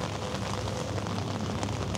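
Steady rain falls outdoors in Hamburg, a continuous dense hiss with soft low rumble and no voices, evenly loud throughout.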